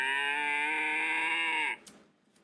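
An over-volted battery toy plays its cow sound: a single loud, sustained electronic moo with a buzzy tone that holds steady, then cuts off abruptly with a short clatter and fading noise.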